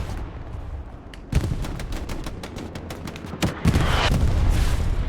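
Bombing run in the video game Hell Let Loose on Omaha Beach: a rapid string of heavy blasts and booming impacts, several loud hits amid continuous crackling gunfire, dense and close.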